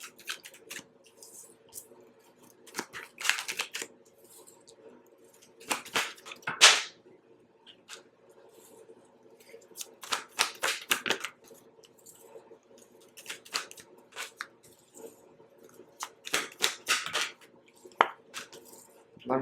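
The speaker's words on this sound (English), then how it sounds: "give me a second to just pull some tarot cards here." Tarot cards are shuffled and pulled from the deck in a quiet room, with repeated papery riffles and slaps in short bursts. The cards are close and fairly soft, and no one speaks.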